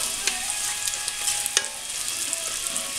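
Chorizo sizzles steadily in a pan over medium-high heat, a dense continuous crackle with occasional sharper pops as the meat is moved around, close and fairly loud with no talking.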